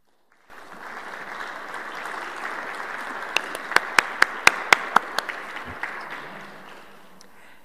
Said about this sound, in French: tu nous as peut-être entendu applaudir